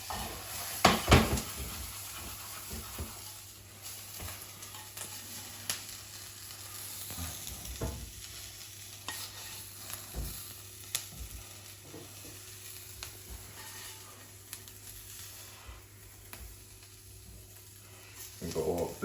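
Onions and garlic fry in a hot pan with a steady low sizzle, punctuated by utensil clanks and scrapes against the pan, close and fairly quiet.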